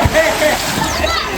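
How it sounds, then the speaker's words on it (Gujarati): Someone takes a running dive into shallow water, making a loud close splash followed by sloshing and churning water, with voices chattering over it. "હવે દોડીને ડાય મારવાના છે"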